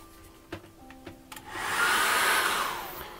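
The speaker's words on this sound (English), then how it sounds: "just going to dry that off very quickly with a hairdryer and let Molly out." A few clicks and taps come first, then a hairdryer switches on and blows a steady, rushing whir over acrylic paint for the rest of the moment.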